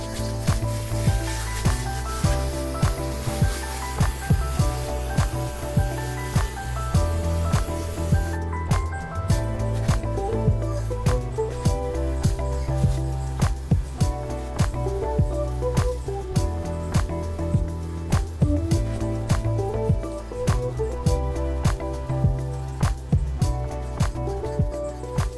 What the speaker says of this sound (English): I repeat the spraying of the coils on the outside as well.